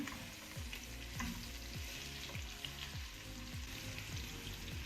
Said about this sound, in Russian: Закидываем тоже, немножко обжариваем.